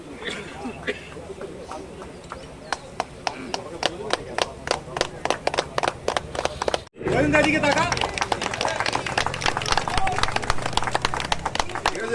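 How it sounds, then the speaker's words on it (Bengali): Audience clapping at a club welcome ceremony in Chakdah, with rhythmic, fairly loud hand claps and crowd noise sustained on both sides of a brief cut, with voices mixed into the din. "একটু হাততালি দেবেন"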